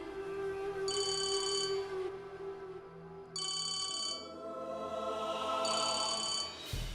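A telephone rings in three separate bursts of trilling electronic rings spaced a few seconds apart, loud and close over a steady low background hum.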